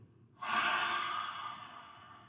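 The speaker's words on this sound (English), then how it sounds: "breathe out through your mouth with a ha sound" A single long breath pushed out through the mouth with a 'ha' sound, an airy hiss that starts abruptly and slowly fades, close and quiet.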